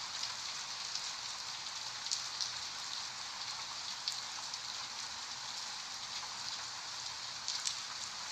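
Steady rain sound effect from the video game Dream Daddy, a constant hiss of falling rain with occasional harder drops standing out, alone with no talking.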